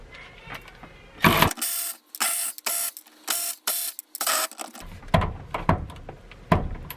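Ratchet or wrench work spinning off 10mm nuts on a turbocharged Honda Civic, sharp bursts of rapid clicking broken by short pauses, close and fairly loud, with no voices.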